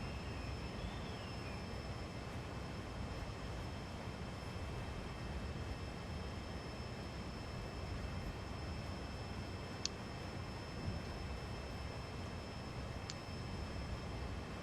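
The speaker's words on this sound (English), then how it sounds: "Wow, I cannot wait to listen to these locomotives for this whole scenario." Locomotives running in the railway game Train Sim World 2 give a steady, dense mechanical drone, like a washing machine on high spin, that never lets up, with a couple of faint clicks partway through.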